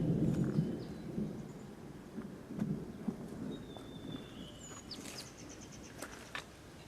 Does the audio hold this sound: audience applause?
no